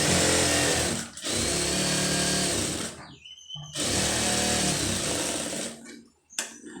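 A sewing machine stitching a lined blouse sleeve, running in steady loud whirring bursts with brief pauses between runs, close up and without talk.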